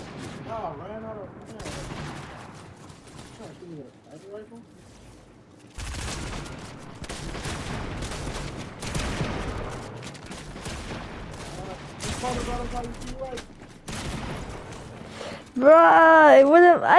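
Gunfire from a Fortnite Zero Build duos match, bursts of shots scattered through the stretch amid game effects and voices, growing louder and denser near the end.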